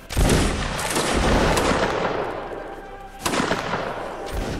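Musket volley in a video game, a loud close burst of simultaneous gunfire followed by a long rolling decay and a second smaller volley near the end, with no talking.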